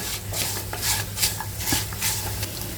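A spoon stirs peanut powder into varai (barnyard millet) upma in a pan, with repeated scraping strokes against the pan in an uneven rhythm and a faint sizzle underneath, close up and with no talk.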